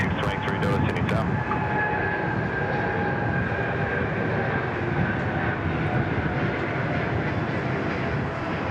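A Qantas airliner landing at Sydney Airport makes a loud, steady jet roar that holds across the whole stretch, close and unbroken.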